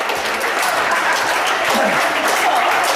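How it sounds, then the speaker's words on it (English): A large audience applauds volunteers at a stage hypnosis comedy show, with loud, dense, continuous clapping filling the room from start to finish. "People will give you a huge round of applause as you make your way to the front of the room."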